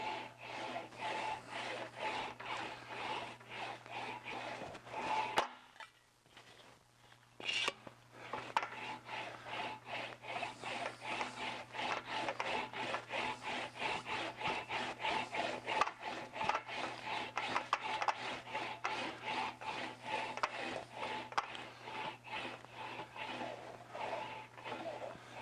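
An English wheel rolling back and forth over a sheet metal motorcycle fender, a continuous rhythmic rubbing and squeaking with a short pause partway through, close and steady.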